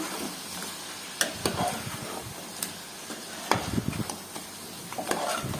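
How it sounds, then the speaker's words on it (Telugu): Chili powder fries in oil for a chicken curry, giving a low steady sizzle up close, punctuated by scraping stirs and sharp taps of a spoon on the pan. "కారం అంతా బాగా నూనెలో మగ్గనిద్దాము."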